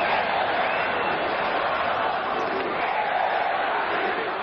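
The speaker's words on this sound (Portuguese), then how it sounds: "Parece que a resposta fica evidente pelas vaias e até xingamento dos santistas" Santos supporters boo and jeer from the stadium stands, a dense, steady roar of crowd noise with no single voice standing out.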